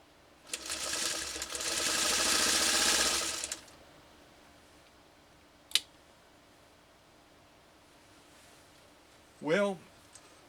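A 1953 Singer 301A sewing machine stitches a sew-off at six stitches per inch, a loud close burst of fast even whirring that lasts about three seconds and then stops, followed by a single sharp click and a brief voice.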